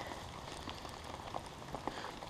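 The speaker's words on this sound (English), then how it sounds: "they don't usually like to stay out in the rain" Cold rain falls at night outdoors, a steady, soft patter of drops on the ground with a few sharper taps nearby, continuous and fairly quiet with no talk.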